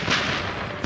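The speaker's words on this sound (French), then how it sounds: "Embusquée, l'artillerie Viet Minh est invisible. Et le pilonnage, d'une puissance inouïe." Viet Minh artillery shelling during the 1954 Battle of Dien Bien Phu, a single loud, booming blast with a rough rumbling decay, brief and close.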